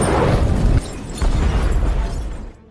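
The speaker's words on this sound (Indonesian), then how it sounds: "listrik mengalami korsleting hingga membuat gudang tempat produksi obat-obatan terlarang milik Gator pun meledak dan" A drug production warehouse explodes after an electrical short circuit in a film scene: two loud, close, roaring blasts separated by a brief dip, the second rumbling on before fading out.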